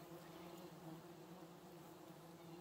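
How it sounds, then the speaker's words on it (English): Steady droning buzz of many flying insects outdoors, continuous and even in level with a low hum, quiet and distant-sounding with no voices. "You get used to the bugs."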